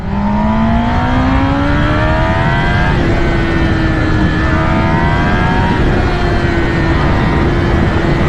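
Racing sportbike on a drag strip, Kawasaki Ninja ZX-10R or Yamaha R1M, screaming past at high revs, steady loud engine whine rising in pitch with gear changes, no talking.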